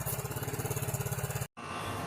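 A warmed-up small engine, apparently on a homemade thumper-style firework launcher, chugs in a rapid steady pulse, close and loud, then cuts out abruptly before resuming as a rougher rumble.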